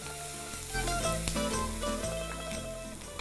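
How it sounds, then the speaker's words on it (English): Chopped onion sizzling as it fries in a pan for a homemade pasta sauce, a steady close crackle running under clinking background tones with no talk. "Now we're going to put in the chopped onion, and just combine those two together for a couple of minutes."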